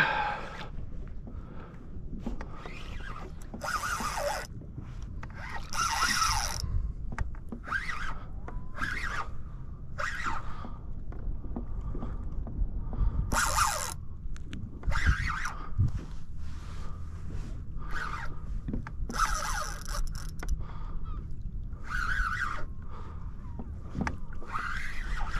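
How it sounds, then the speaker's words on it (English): Fishing gear being unloaded from a kayak on the water: scattered knocks, rustles and clattering bursts of plastic and equipment over a low steady background rumble, with no voices. "So my kayak's a bit of a mess. Let's get all this gear out of here."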